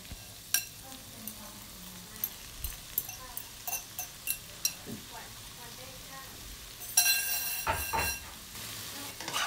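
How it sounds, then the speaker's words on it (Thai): Kale and Mama instant noodles stir-fried in a pan, with repeated scraping stir strokes and a steady low sizzle, then a louder burst of frying late on amid faint household background noise. "เราจะใส่คะน้าลงไปผัดคะน้าลงไปสักแป๊บหนึ่งค่ะแล้วเอาเส้นมาม่าใส่ลงไปเลยค่ะ"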